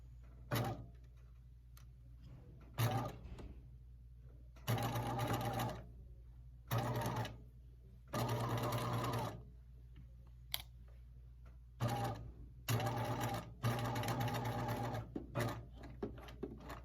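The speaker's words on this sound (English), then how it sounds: "we're going to stitch our 1/4 inch seam on the top" A sewing machine stitches a quarter-inch seam along the top edge of a fold in draping fabric, running in several short bursts and a few longer runs separated by brief pauses, close and steady.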